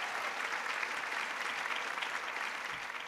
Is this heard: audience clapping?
yes